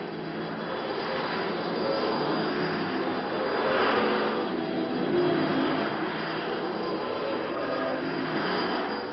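Étendard jet aircraft roar steadily while slowed for in-flight refueling in 1968, a loud continuous rushing drone with no voices.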